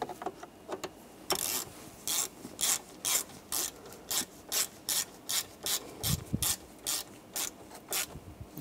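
Screws being tightened into the steering column covers of a 1999-2006 Chevrolet Silverado 1500 with a ratchet, giving a run of about a dozen short, even clicking bursts close by, with no talk.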